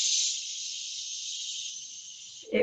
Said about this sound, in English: you can be making some noisy breathing